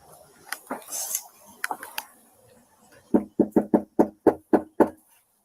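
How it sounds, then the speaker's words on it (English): A police officer taps on a house door, a run of about eight quick, evenly spaced knocks, close and sharp, following some scattered softer clatter and faint voices. "Watch this time when he tap on the door."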